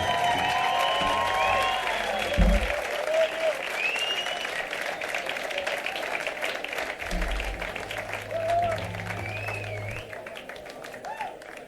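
Concert audience at Sala El Sol in Madrid applauds the guitarist in a long, steady wash of clapping and scattered cheers, with an amplified band tone and crowd murmur underneath.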